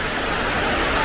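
A waterfall pours steadily, a loud, broad hiss of falling water that holds constant throughout the brief moment without any speech.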